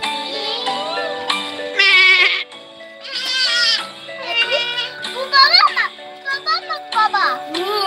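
Several children bleat in high voices, imitating a little lamb, in repeated short bursts, with someone speaking in between.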